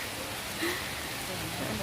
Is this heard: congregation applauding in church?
no